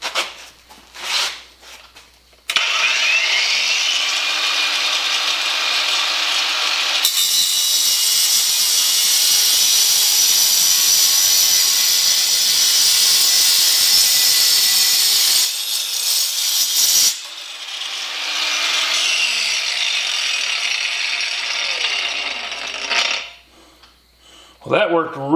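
A cordless AutoJare 4.5-inch angle grinder fitted with a Hart diamond wheel cuts scrap metal tubing or angle iron. It gives a loud, sustained, close grinding whine with spin-up and wind-down at each end and a brief dip in the middle.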